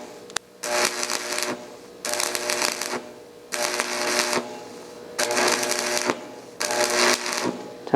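Stick welding of a 40A steel pipe elbow with an E4313 electrode: loud, harsh arc crackle in about five bursts of roughly a second each, separated by short quiet gaps, with no speech.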